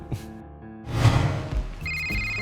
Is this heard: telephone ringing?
yes